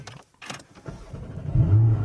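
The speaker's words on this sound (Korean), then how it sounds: "시동 한번 걸어" A Porsche 718 Cayman with about 12,000 km is started: a few soft clicks and mechanical noises come first, then the engine fires up with a deep, close rumble that swells and holds through the end.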